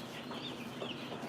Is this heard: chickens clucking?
yes